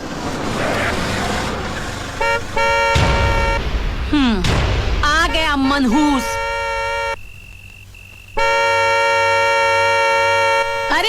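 A loud, sustained car horn blares in long steady blasts, cutting out and returning, with a voice speaking briefly over the noise.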